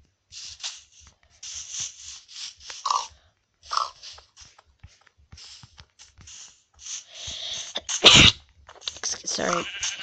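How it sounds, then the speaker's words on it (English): A person sneezes in short, sharp bursts, one loud explosive sneeze standing out near the end, surrounded by scattered chatter and small clicks while playing Minecraft PE. "I sneezed. That's how I sneeze. I sneeze like a grandma."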